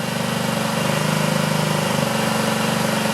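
A scooter engine with a suspected clogged carburetor idles steadily and loudly up close, its uneven, lumpy running holding throughout with no talking.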